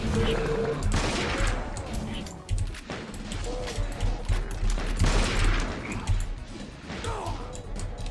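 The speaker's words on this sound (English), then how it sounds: "this is the BFG in this mod. It's basically a high-powered sniper rifle." BFG weapon in a video game mod, a high-powered sniper rifle, firing amid dense bursts of gunfire and mechanical clatter, loud and continuous with a voice talking over it.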